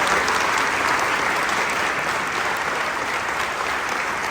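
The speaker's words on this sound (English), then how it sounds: "Give them another round of applause, please." An audience at a teacher-of-the-year ceremony claps in a sustained, dense round of applause, loud and even from start to finish with no pause.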